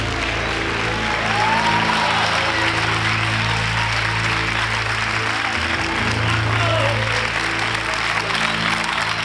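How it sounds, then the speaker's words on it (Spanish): A studio audience at a late-night television show applauds a guest, a political candidate, with dense, steady clapping that stays loud and continuous for the full stretch. "Por favor, un aplauso para el candidato de Bildu"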